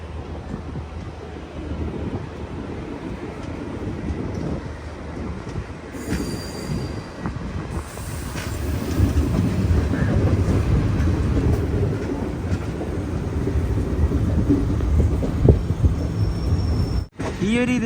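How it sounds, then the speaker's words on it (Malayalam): The Hubballi–Kochuveli Express passes through Kochuveli railway station with a sustained, loud rumble of wheels on rails and squealing wheels, growing heavier as the train goes by, with faint voices in the background. "ഇത് ഹുബ്ബള്ളി കൊച്ചുവേളി എക്സ്പ്രസ് ആണ്."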